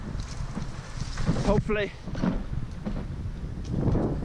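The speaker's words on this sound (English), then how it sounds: "It's a little windy out here." Wind buffets a microphone outdoors at an apartment complex dumpster area, a steady rumbling gust with someone talking over it.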